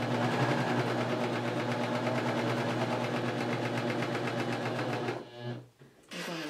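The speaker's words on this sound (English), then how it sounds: "drop it down, and just stitch right across" Husqvarna Viking Huskylock s25 serger stitching across knit fabric, a close, fast, even mechanical chatter running steadily for about five seconds before slowing and stopping with a brief restart.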